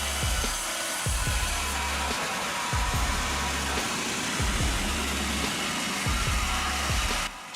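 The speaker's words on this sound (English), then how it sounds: "the Mebor HTZ 1300 offers unparalleled speed when it comes to producing clean-cut" A Mebor HTZ 1300 bandsaw sawmill with a 100-horsepower engine cuts logs into planks, a continuous mechanical whine with repeated low rhythmic surges as the carriage passes, steady and fairly loud.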